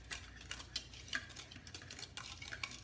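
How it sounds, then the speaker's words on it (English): A whisk stirs sugar and flour together in a bowl, giving faint, quick scraping ticks and soft clinks in an irregular rhythm, quiet and close with no voices. "I'm just going to whisk my sugar and my flour together to get it mixed up."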